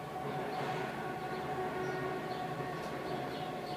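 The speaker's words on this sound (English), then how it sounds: "I don't know if you hear that train going by in the background." A train rumbles past in the background, a steady broad rushing noise with faint tonal whines and squeals drifting over it, no voices.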